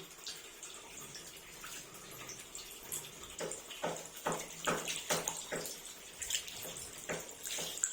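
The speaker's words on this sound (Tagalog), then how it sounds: "Tapos, lalagyan natin siya ng tubig." Water is poured from a tap into a basin to soak a finished cross-stitch piece, giving a steady splashing stream with a run of sharp drips and splashes in the second half, close by and moderately loud, with no talk.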